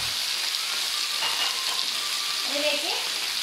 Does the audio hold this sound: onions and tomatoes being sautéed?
yes